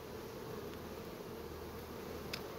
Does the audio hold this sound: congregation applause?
no